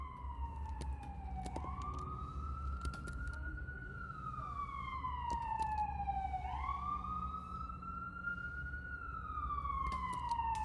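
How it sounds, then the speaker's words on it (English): An emergency vehicle siren wails outside, rising and falling in slow sweeping cycles, heard faintly indoors behind a quiet room ambience. "Sorry about the siren."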